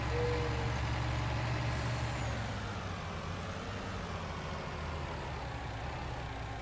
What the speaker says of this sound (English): So we'll bring the truck on over to here and get this ready.